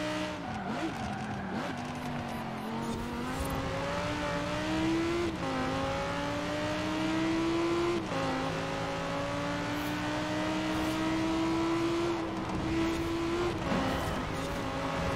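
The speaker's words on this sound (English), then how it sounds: "Some wheel spin on the back tires." A race car in Forza Horizon 4 revs hard with its rear tires spinning, the engine note climbing steadily through several gear shifts with a continuous loud, close roar and brief squeals.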